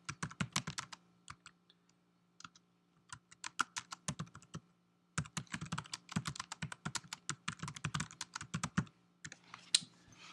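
Typing on a computer keyboard, close bursts of rapid key clicks that stop and restart with short quiet gaps, no talking.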